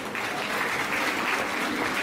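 Steady, dense audience applause at a Hindi comedy and poetry show, many hands clapping together at an even level with no voices over it.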